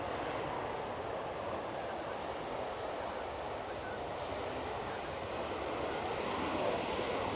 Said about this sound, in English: we have got this Ryanair. It's just come in.